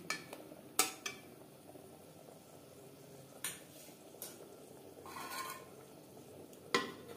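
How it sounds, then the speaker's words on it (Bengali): Beans tipped into a pot of boiling rice on a gas stove, a few sharp metallic clinks and knocks of utensils against the pot over a steady low bubbling, no talk. "দু 3 মিনিট ফুটিয়ে নেওয়ার পর দিয়ে দেব শিম"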